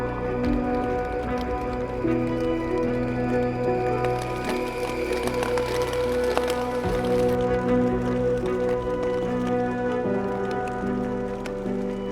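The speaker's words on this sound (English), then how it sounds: "It's just non-stop rain." Rain falls steadily on a campsite during a backpacking trip on Isle Royale, a constant patter with scattered nearby drops that lasts the whole stretch.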